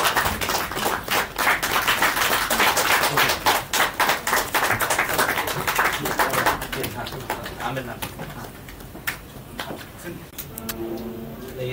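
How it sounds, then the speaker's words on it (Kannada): Audience applause welcoming a guest at a Kannada film trailer launch press meet, with a burst of clapping from a crowd that fades out. Speech and other noise run underneath. "ತಾವೆಲ್ಲರೂ ಜೋರ ಚಪ್ಪಾಳೆ ಮೂಲಕ ಪ್ಲೀಸ್ ಅವ್ರನ್ನ ಒಂದ್ಸಲ ನಾವು ಈ ಕಾರ್ಯಕ್ರಮಕ್ಕೆ ವೆಲ್ಕಮ್ ಮಾಡಿ"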